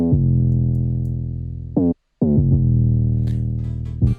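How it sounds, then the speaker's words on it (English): A distorted 808 bass from the Mad V pack, playing a moombahton line in FL Studio, booms in long sustained notes with pitch glides, separated by a brief gap, loud and alone. "But the 808 sounds like this."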